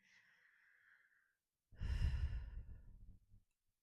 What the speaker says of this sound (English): And place one hand on your heart and just keep breathing.